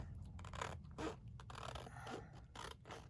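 Paper being cut apart with scissors while breaking a scrapbook page kit into smaller kits, giving steady close scraping snips and rustles over about three seconds with no voice.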